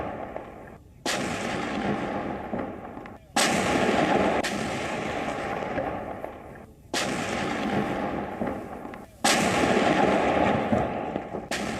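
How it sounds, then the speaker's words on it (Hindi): Heavy artillery and gunfire in the city of Kharkiv, Ukraine, during wartime: four huge booming blasts, each followed by a long rumbling roar that dies away before the next, loud and near. "यूक्रेनी सेना की ओर से फायरिंग की जा रही है खार्किव शहर"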